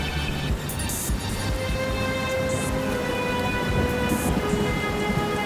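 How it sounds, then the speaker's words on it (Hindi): Steady, dense rainfall hisses continuously in an animated cartoon scene, with a low thunder rumble underneath and no voices. "खड़े बारिश में भीग रहे हैं।"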